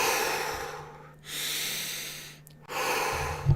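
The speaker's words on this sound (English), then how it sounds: "We can start off with the deep cleansing breaths" Three slow, deep breaths are taken close to the microphone, each a long airy inhale or exhale separated by short pauses, with a faint steady hum underneath.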